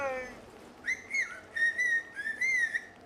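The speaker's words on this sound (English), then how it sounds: "There's more than 20 different melodic contrasts that are being whistled here." Whistled speech in Chinantec, a tonal language, comes as a rapid series of clear, gliding pitched whistles in short phrases, close and loud, after a brief fading whistle at the start.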